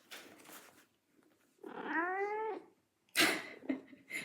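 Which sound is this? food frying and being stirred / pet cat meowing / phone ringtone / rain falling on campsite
pet cat meowing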